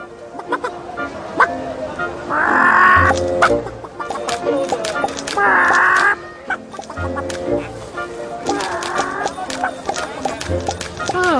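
A hen clucks in short bursts amid voices and movement, with a few louder squawking outbursts standing out over the talk.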